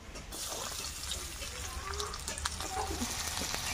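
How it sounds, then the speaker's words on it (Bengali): Onions sizzle in oil in a pan, reused after frying potatoes, giving a steady close hiss with soft crackles and faint stirring, a voice talking now and then over it. "পেঁয়াজটা আমি একটু লাল লাল করে ভেজে নেব"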